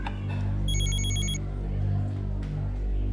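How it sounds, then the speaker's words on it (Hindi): A telephone bell rings in short repeated bursts for about a second, loud and close over a steady low hum, in a domestic drama scene. "एक्सक्यूज मी, अम्मी का फोन है"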